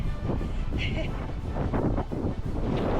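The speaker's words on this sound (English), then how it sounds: "It's windy up here." Steady, broadband wind rumble buffets the microphone throughout, with a muffled low roar and no clear voices.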